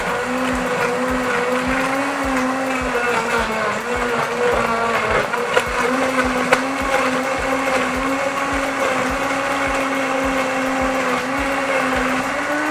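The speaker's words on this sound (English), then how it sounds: "Start with the blender on low." A blender runs steadily on low speed, blending fresh fruit with strawberry jam, producing a loud, continuous motor whine with a slight wavering pitch and intermittent clattering throughout.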